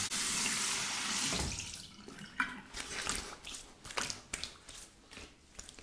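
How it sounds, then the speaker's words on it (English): Tap water runs into a sink for a cold face rinse after a razor shave, a steady stream at first, then broken splashing and dripping as hands cup and scoop the water. "Now a cold water rinse to the face."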